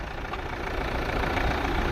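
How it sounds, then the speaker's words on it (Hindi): A Tata Safari diesel engine idles steadily with the air conditioning running, a close, even mechanical hum and rumble that holds constant throughout with no talk. "गाड़ी स्टार्ट है, AC चल रहा है,"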